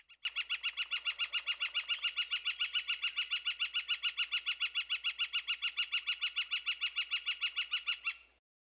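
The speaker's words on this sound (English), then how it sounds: "This is a northern flicker." A northern flicker in a backyard gives a long, steady series of rapid, evenly spaced loud call notes, about forty in a row, ringing out clearly before stopping abruptly.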